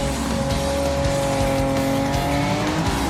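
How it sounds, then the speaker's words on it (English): Maserati MC20 race cars running close together in a slipstream produce a loud, sustained engine roar with steady tonal whine and subtle pitch shifts, a dense mechanical drone with no pauses. "such is the power of Slipstream, as they're both drafting each other."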